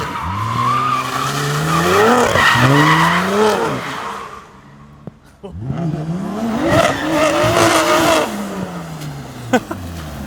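A loud, close engine revs hard and climbs in pitch through several gear shifts, dips briefly into quiet, then roars up through the gears again.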